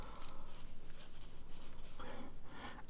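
A word is written by hand on paper, with short scratchy pen strokes in quick bursts, close and quiet, followed by a brief pause and more strokes.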